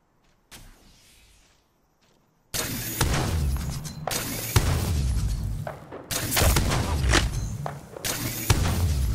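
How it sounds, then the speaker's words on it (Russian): Heavy bursts of gunfire and booming explosions from the battle royale game Apex Legends, loud and dense, arriving in repeated clustered volleys after a quieter opening. "Эй, в меня стреляют!"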